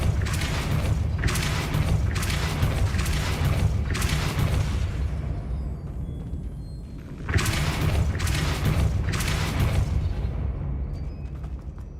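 Repeated booming blasts of the Confringo fire spell in Hogwarts Legacy, a rapid string of loud, deep explosions roughly every second, pausing briefly midway before another volley.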